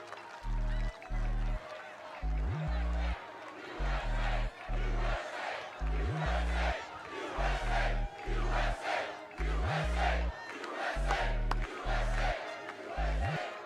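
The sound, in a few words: rally crowd cheering and shouting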